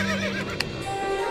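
A short horse whinny in the video game The Settlers: Heritage of Kings rings out over a steady background of game music and ambient tones, brief and moderately loud.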